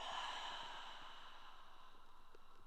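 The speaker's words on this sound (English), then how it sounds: "You're going to hear me breathe a lot" Yoga breathing, a long slow airy exhale trailing off, soft and close with no talk.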